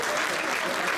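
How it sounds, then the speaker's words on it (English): A room audience claps together in a short, dense burst of applause. "We give him a clap for that."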